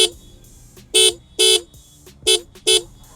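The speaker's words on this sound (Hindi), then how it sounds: "मैं अपाचे का हॉर्न भी आपको सुनाता हूँ" A TVS Apache RTR 160 2V motorcycle's dual-tone horn honks four short, loud blasts in an uneven rhythm, close by.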